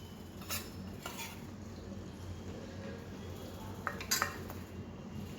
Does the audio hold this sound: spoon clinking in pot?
yes